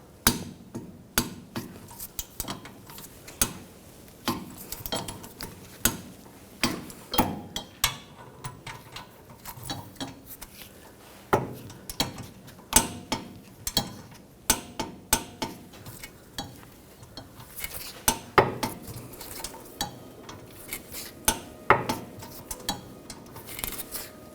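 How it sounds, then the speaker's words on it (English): Tightening hub bolts on a 2011-2018 Volkswagen Jetta during a rear wheel bearing and hub replacement: sharp metallic clicks and clanks repeat irregularly throughout, fairly close and moderately loud, with no talk. "You're going to torque these bolts to 90 foot-pounds and then an additional 90 degrees."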